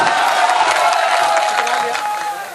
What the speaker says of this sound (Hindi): तालियों से इस्तकबाल करके बताइए